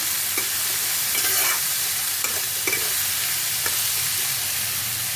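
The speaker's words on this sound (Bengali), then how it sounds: "এখন এটা আমি ভালো করে নাড়াচাড়া করে নেবো" Chili powder and spices fry in a pan for a fish dish, a loud steady sizzle with a few light scraping strokes of a spatula stirring through, close and continuous without speech.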